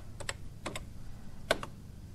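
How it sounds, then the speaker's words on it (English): Typing on a computer keyboard while entering program code, a few separate pairs of crisp key taps spaced across a quiet moment, close and soft, with no voices. "I wonder how many years of my life were spent typing in these programs."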